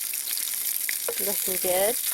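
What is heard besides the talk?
sausages frying over campfire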